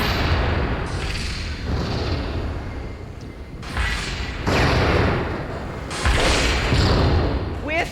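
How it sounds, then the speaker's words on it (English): Heavy rocket launcher blasts from a Warthog vehicle in Halo 2, three loud booming bursts a second or two apart, each leaving a rushing tail, with a voice over them. "And this Warthog has a rocket launcher."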